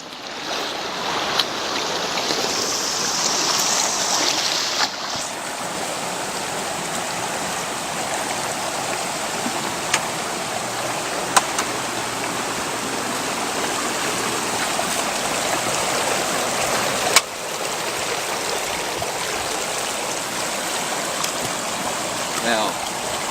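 Water pumped through a fluid bed gold sluice carrying sand, gravel and black sand, a steady rushing flow throughout with a few sharp clicks and a short brighter burst near the start.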